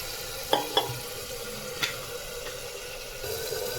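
Mixed lentil curry in a pan, heard as a soft, low simmering sizzle with a few light clinks and scrapes of a spoon stirring, quiet and close.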